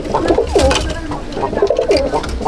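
Pigeons in a loft at Sangrampur coo close by in repeated soft, throaty bursts, several birds overlapping in an uneven rhythm.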